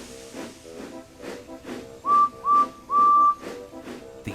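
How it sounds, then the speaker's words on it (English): A cartoon steam locomotive puffs in a steady chugging rhythm, then sounds three sharp whistle blasts, the last one held longest, close and loud over the puffing. "Then the driver pulled the lever and Edward puffed away."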